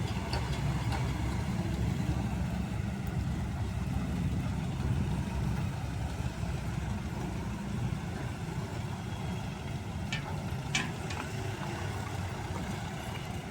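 Hino and Isuzu Elf trucks, one carrying a load of timber, pass a railway crossing with a continuous low engine rumble and road noise, fairly close and steady throughout.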